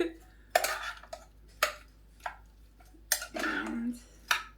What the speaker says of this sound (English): Our scampi needs to be stirred.